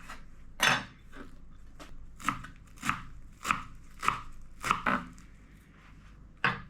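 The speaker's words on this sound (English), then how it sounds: "let's chop up the cilantro" Knife chopping cilantro on a cutting board, about nine sharp, separate chops at an uneven, unhurried pace, close and clear with no speech.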